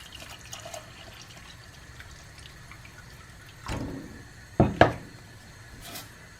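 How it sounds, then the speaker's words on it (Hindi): Remaining milk poured into an almond and fennel seed curry in a pot, a faint quiet background giving way to a short liquid splash and two sharper pouring bursts with light utensil clinks. "अब मैं इसमें बकाया का दूध डालती हूँ"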